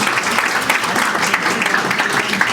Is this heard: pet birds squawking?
no